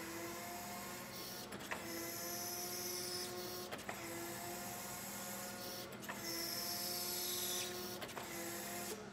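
Hydraulic side shift on a Lift Hero CPD25 8,000 lb electric forklift, a steady whine with harmonic hum running continuously, rising in pitch during several short bursts of pump effort, with no talking.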